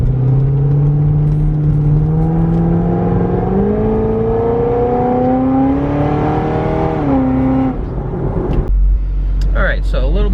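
A 700HP supercharged Corvette pulls hard on a highway, its engine note climbing loud and steady through the gears with a brief dip at a shift before the pitch drops off and wind noise takes over.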